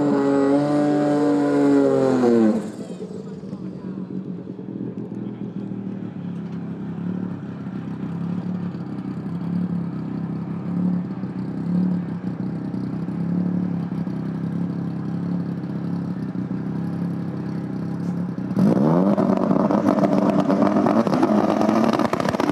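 A No Prep Kings drag race car making a solo pass at Cordova Dragway, a loud engine roar that drops to a long distant drone as it runs down the track, then a harsh close revving returns.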